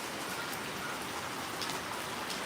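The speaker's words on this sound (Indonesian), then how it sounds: "lagi hujan" Steady rain pours down outdoors, a dense, even patter of drops on surfaces that continues without pause, fairly close and with no talking.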